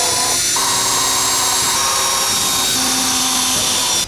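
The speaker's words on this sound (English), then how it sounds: "so just drill some holes in there" Power drill boring holes into pallet wood for a rustic mail holder, a steady loud whine held throughout with pitch shifts as the bit bites and eases, close up and with no talking.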